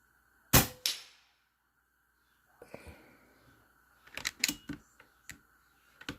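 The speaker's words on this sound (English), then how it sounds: "That was 13 shots out of the factory magazine." Air Venturi Avenge-X PCP air rifle shots ring out with sharp cracks, first a loud one, then a cluster of quicker snaps and clanks as pellets strike metal targets, with quiet gaps between.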